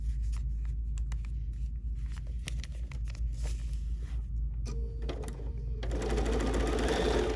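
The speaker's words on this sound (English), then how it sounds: "And now I'm ready to stitch with my 1/4 inch seam allowance." A quilting sewing machine runs a 1/4 inch seam on a pieced block with a fast, continuous close stitching whir, punctuated by light clicks and fabric rustles, growing busier near the end.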